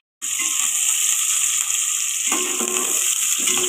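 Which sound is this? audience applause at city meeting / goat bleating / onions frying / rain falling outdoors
onions frying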